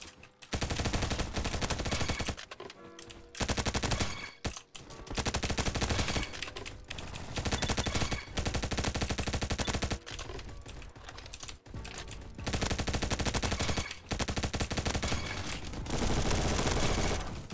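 TAR-21 rifle firing automatic bursts in the Bad Business video game, dense rapid gunfire in long sustained strings broken by short gaps, loud and close, with no talking.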